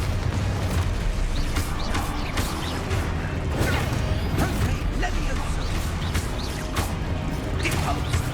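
A spell blast from Hogwarts Legacy on PS5 goes off amid busy combat effects, with repeated whooshing casts and crashing impacts over a dense rumbling bed, up close and loud.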